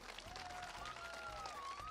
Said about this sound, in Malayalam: സിന്ധുവിന് വേണ്ടി ഒരു കയ്യടി അല്ലേ?